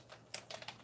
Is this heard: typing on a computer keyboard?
yes